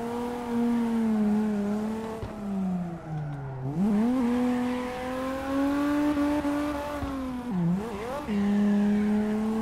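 A drifting car in the CarX Drift Racing video game roars with a steady, loud engine whine that dips and climbs as the throttle shifts, tires squealing throughout the slides, with no one speaking.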